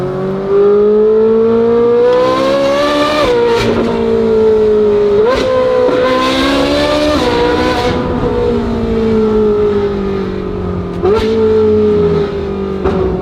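A Ferrari 458 with a titanium exhaust drones loudly close by, its exhaust note climbing through repeated upshifts with sharp crackles between gears, sustained throughout.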